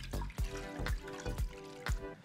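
Liquid champagne gelatin mixture pours through a fine sieve into a pan, a soft close trickle and splash with a few rhythmic drips and knocks, fairly quiet, with no voices.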